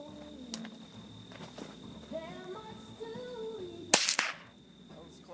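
Gunshots from target shooting, with a few faint cracks early on and one loud, sharp report near the end, while voices talk quietly underneath.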